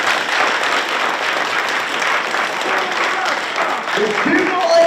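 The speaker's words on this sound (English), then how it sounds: "I think that deserves a round of applause" Steady applause from a school assembly crowd fills the whole stretch, dense and even, with a slight swell near the end.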